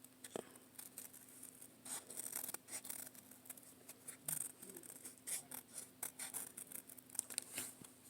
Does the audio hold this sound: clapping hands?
no